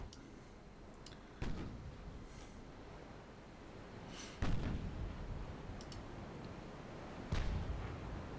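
Naval gunfire from a dreadnought battleship in a video game: three sharp booming shots at spaced intervals, each with a rolling tail, over a quiet low rumble, with a few faint ticking clicks between.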